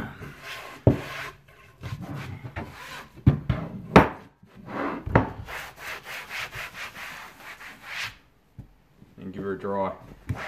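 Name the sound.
damp sponge wiping surface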